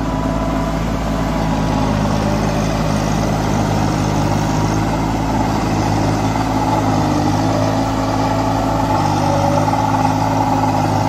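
A Kubota mini tractor engine runs steadily while puddling a flooded paddy field, a loud, continuous mid-pitched drone with a low rumble that holds throughout without talk.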